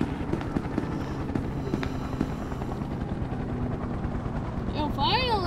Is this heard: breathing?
no